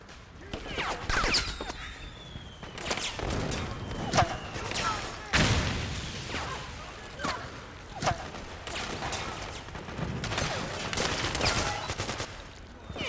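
Gunfire in Metal Gear Solid 4: Guns of the Patriots, with repeated bursts of shots, thuds and impacts at varying loudness, some close and sharp, others more distant, spread irregularly across the whole stretch.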